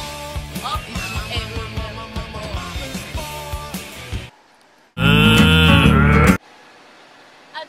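Cows on a Wisconsin farm moo once in a single loud, sustained call that follows several seconds of busy music and a brief quiet gap.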